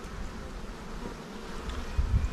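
Honeybees hum around hives in a steady, close buzz, with a brief louder swell near the end.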